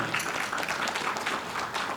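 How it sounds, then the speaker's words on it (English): Brief, steady applause from an audience at a law panel discussion honouring a speaker, dense clapping with no talk heard over it. "Huge round of applause for her as well."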